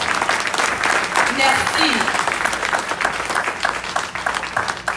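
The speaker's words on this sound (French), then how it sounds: "Applaudis mon Dieu encore." A congregation at a Sunday worship service claps in a sustained, lively burst of applause, with a voice speaking briefly over the clapping.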